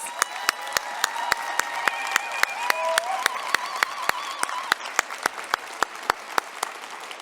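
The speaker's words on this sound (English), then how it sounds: "let's give her one more round of applause." Applause at a university convocation ceremony with evenly spaced sharp claps standing out over a softer crowd, while a sustained tonal hum or instrument-like tone runs underneath, moderately distant.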